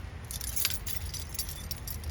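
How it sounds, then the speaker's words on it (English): Car keys on a key ring jangle and clink lightly, a bright metallic rattle close by, during repair work on the lower control arm of a 1999-2001 Lincoln Town Car, with no talking. "just as easy as using one of your random car keys you have on your key ring"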